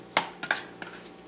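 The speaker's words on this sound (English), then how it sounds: "we're going to go ahead and mix all of this together in the bowl really well" Salsa and queso dip ingredients being stirred together in a bowl, producing three short bursts of utensil clatter and scraping against the dish with brief pauses between them, fairly close and moderately quiet.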